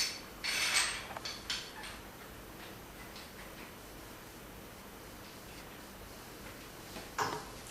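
Parts of a CNC table being assembled as the Y-axis ball screw and its bearing support are fitted: a few close metallic clinks and knocks over a faint steady background hum, with no talking.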